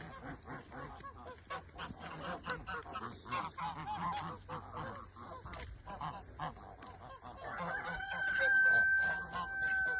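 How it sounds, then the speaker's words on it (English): A flock of geese at a riverside resort honking and cackling continuously nearby, with a rooster crowing and occasional voices mixed in. "And here are all the geese."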